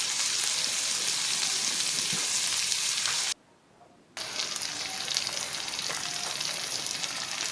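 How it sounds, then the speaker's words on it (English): Onions and tomatoes fry with a steady, dense sizzle in a pan for a spinach dish, broken by a brief pause near the middle before the crackling resumes, close and fairly loud with no talking. "I add my tomatoes. You stir, leave it to cook until the tomatoes are well cooked as well."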